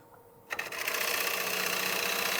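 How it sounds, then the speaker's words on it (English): A 1/2 inch gouge cutting a wood platter on a lathe starts after a quiet hum, producing a steady, close, broadband scraping hiss with a rapid rhythmic chatter that continues without pause. "I'm going to switch back to my 1/2" gouge for bulk removal."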